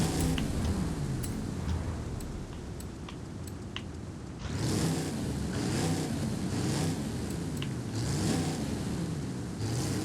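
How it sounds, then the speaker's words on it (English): A diesel engine in a 1986 Ford F-150 in Forza Horizon 5, idling with a low rumble and then revving up in several loud surges with a gravelly roar. "why don't we throw in this diesel engine?"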